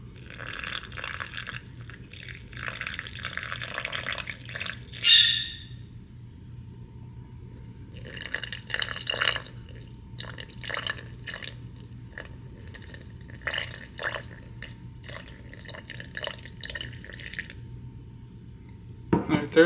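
Water is poured into a sourdough starter container sitting on a kitchen scale, giving a close, uneven trickle and splash in bursts with quiet pauses between and a brief clatter midway.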